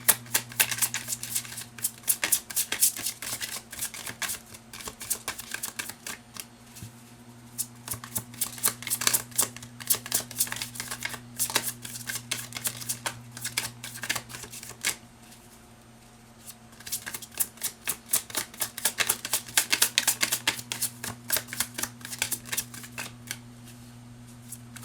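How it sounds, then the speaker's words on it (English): Tarot cards are shuffled by hand in quick papery riffles and slaps, in bursts with short pauses between them, over a steady low electrical hum and with no talk. "I feel like for half an hour I'm just gonna be shuffling."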